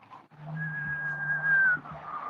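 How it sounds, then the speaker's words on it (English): A person whistles a single long, steady note, clear and fairly close, rising slightly in loudness before trailing off, with a faint low hum underneath. "He's whistling."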